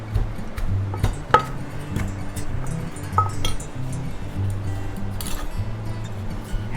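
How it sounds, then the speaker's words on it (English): Papaya salad is tossed with a spoon in a bowl, giving scattered clinks and scrapes over a low continuous background hum, close and moderately loud. "And flip with a spoon."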